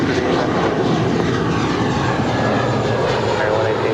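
A Delta Connection Embraer E175 jet at LAX roars continuously and loudly nearby, a broad steady engine rush with no pauses.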